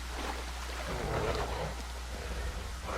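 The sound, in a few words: rain falling in video game Jurassic World Evolution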